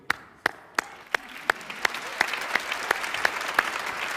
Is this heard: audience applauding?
yes